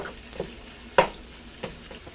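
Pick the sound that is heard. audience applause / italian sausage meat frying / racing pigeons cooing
italian sausage meat frying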